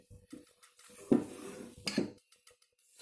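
Chocolate and butter being mixed in a bowl, with a few scattered scrapes and knocks of a utensil against the dish, close but quiet with pauses between strokes.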